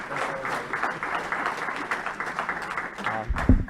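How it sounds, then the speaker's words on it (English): Audience applause for a speaker being introduced at a community event on climate and environmental justice in Harlem, a steady crowd clapping sustained across the whole stretch with no talk over it. "please give Arthur Chan a big round of applause."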